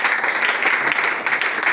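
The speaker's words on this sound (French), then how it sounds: "acclame Jésus" Audience at a prophetic deliverance church service applauding and cheering, a steady wash of many hands clapping with crowd noise, loud and continuous throughout.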